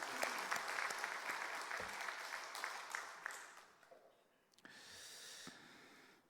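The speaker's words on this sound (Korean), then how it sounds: "바자회 때 수고 많으셨는데 우리 서로 박수 한번 해주세요." A church congregation at a Sunday service in Gwangju claps for one another, a soft, somewhat distant patter of many hands that fades out briefly and then swells again.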